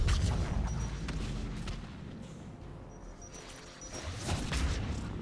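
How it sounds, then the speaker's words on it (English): Rocket explosions in the video game Mass Effect 3: heavy booming blasts with a rumbling low end, loud at the start, fading into a churning roar, then another burst near the end. "That's a lot of goddamn rockets."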